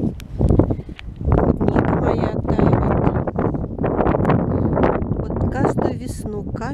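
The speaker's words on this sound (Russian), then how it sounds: "Ветрище." Strong spring wind gusts outdoors in a thawing lowland, buffeting the microphone with loud, continuous roaring rumble under a woman's speech throughout.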